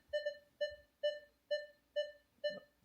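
A Minelab Xterra Pro metal detector sounds off over a pull tab as it swings past the coil, giving six evenly spaced, clear tonal beeps about half a second apart, close and alone.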